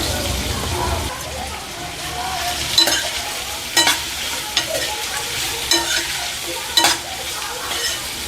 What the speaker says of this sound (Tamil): நல்லா கோல்டன் ப்ரௌன் கலர் வர வரைக்கும் நல்லா வதக்கிக்கலாம்.